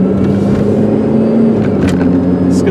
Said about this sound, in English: as you see, it shifts nice and fine through all the gears.